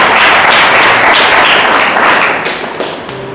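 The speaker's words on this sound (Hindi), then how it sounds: "ताली बजाए प्रभु पिता के लिए।" A church congregation claps loudly and steadily in praise during a Hindi worship service, dense applause running throughout and tapering off near the end.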